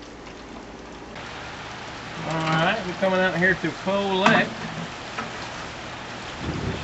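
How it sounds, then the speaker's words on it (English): Heavy rain falls outdoors beside a grill in a steady, hissing wash that runs under a voice as he talks for a few seconds. "Trying to rush here because this rain is not letting up."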